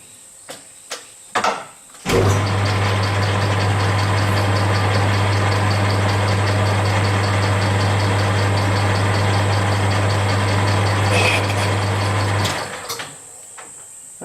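A machine tool starts up and runs at low revs, its single-point tool cutting a cast steam chest for a Stuart Turner No. 8 mill engine, giving a steady loud hum with faint ticking before it winds down and stops.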